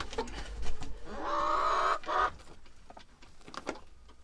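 Hens clucking and squawking nearby, with a loud, drawn-out cackle in the middle and scattered short clucks around it.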